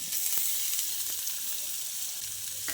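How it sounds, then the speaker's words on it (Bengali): Chopped garlic, ginger, green chili and onion frying in hot white oil for soybean momo filling, a steady close sizzle with a few faint clinks, no voices. "তেল গরম হয়ে এলে এর মধ্যে দিয়ে দিচ্ছি রসুন কুচি আদা কুচি কাঁচা লঙ্কা কুচি আর দিয়ে দিচ্ছি পেঁয়াজ কুচি"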